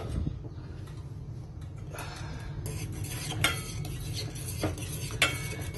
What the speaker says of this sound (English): You have to keep stirring the glue.